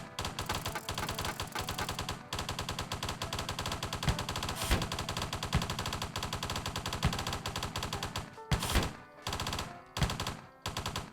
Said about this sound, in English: If we put another Gatling gun up there.